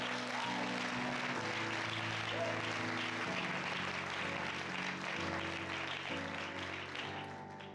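A church congregation at an Easter service applauds and cheers for Jesus, a sustained dense wash of clapping with steady loudness throughout, while music and voices carry on underneath.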